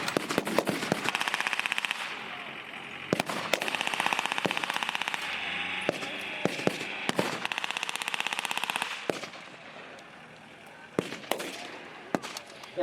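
At a World War II battle reenactment, loud bursts of automatic gunfire crack close by in rapid strings, mixed with single sharp shots and short lulls between volleys.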